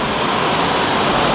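Water sprays hard and steadily from a hose or pressure washer onto a car during a wash, a loud, close hiss that runs unbroken.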